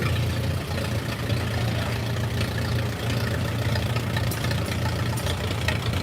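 An antique 1936 WC tractor idles during an outdoor tractor parade, making a steady, low, rumbling chug that holds at an even level throughout with no voices over it.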